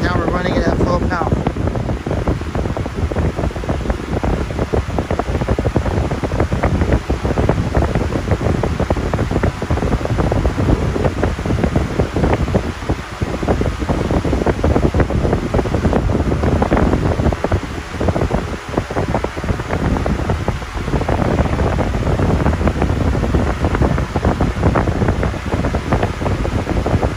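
An 18-inch TPI high-velocity fan runs at full power, giving a loud, steady broadband rush of air with wind-like buffeting throughout, no clear pauses, and faint talk under it.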